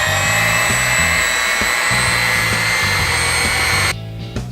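An electric hand mixer beats ghost pepper brownie batter, its motor giving a loud, steady whirring drone for about four seconds before it suddenly cuts off.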